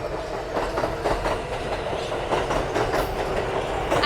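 A train passes close by in Bushwick, New York, with a loud, continuous rumble and a rhythmic clickety-clack of wheels on rails, steady throughout and without voices.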